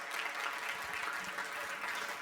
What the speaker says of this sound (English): Ladies and gentlemen, a round of applause for Professor Reid.